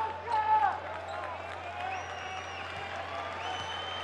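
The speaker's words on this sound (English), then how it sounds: "So some applause here from the knowledgeable fans in this part of the world who've come to the Waka to support the local club." Fans applaud at an AEK versus Juventus Utena basketball play-off qualifier, a soft, scattered patter of clapping in the arena with some sharp squeaks, under low talk.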